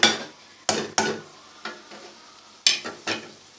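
A spoon stirs green beans and potatoes coated in masala in a pan, with several distinct scraping strokes and light sizzling between them, close and moderately quiet, no talk.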